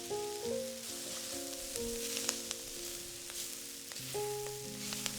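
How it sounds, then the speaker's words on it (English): Green curly kale sizzles steadily in a hot pan, a continuous close frying hiss with light crackles, while soft music plays underneath. "Now add in your green curly kale, the more tender of our vegetables."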